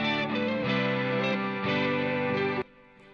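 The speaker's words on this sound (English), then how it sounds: "So it's just a little touch of delay." Electric guitar treated with a subtle analog delay plugin in Studio One, sustained distorted chords ringing loudly for over two seconds before cutting off, leaving a soft, quiet delay trail.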